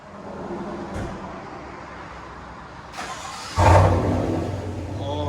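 A 2023 Chevy Silverado LTZ with a 6.2L V8 and Borla S-Type cat-back dual exhaust idles with a low rumble, then revs, the engine swelling into a loud, deep roar close by.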